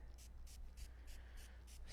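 Hydro Mist spray conditioner misted onto curly hair in quick, evenly spaced spritzes, about seven short hissing bursts, faint and close over a low background hum.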